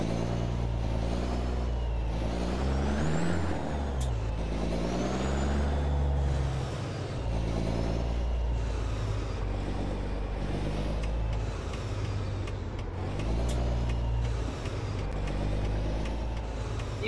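A simulated truck with a Caterpillar engine in American Truck Simulator, a loud, steady diesel drone with shifting engine pitch as it pulls away and works up through gears, punctuated by brief air-brake hisses, no talking.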